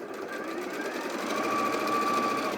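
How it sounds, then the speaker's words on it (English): A sewing machine runs steadily, stitching quilt block pieces for a block-of-the-week quilt, its motor whir close and continuous, rising slightly in level as the fabric is fed through, with no talk. "I'm holding my fingers down on that and then just feeding it through the machine."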